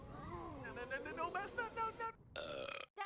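A voiced burp in an abridged Digimon parody, comically drawn out and tonal, loud and close, running a couple of seconds before a short break and a second burst.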